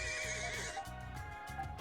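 A horse neighs in the action RPG Ys Memories of Celceta, a layered whinny over looping game music with a steady rhythmic bass beat, no talk.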